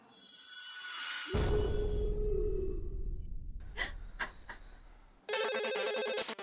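A telephone rings in short repeated bursts near the end, after a loud low rumble and a few sharp knocks; no one speaks.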